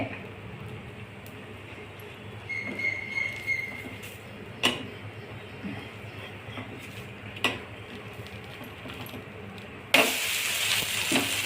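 A wheat-flour and semolina uttapam, just flipped, sizzles in oil on a pan. The steady, soft frying hiss carries a few sharp clicks and grows louder and brighter near the end.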